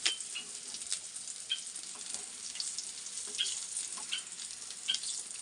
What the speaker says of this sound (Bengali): এখানে আগেরগুলো ভাজা হয়ে গেছে, এখন আরও কতগুলো দিলাম